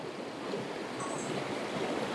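A river flows beneath an old industrial bridge, giving a soft, even rushing hiss at a moderate distance with no voices.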